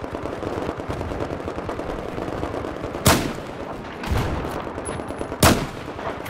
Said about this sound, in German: Immer zwei Schüsse.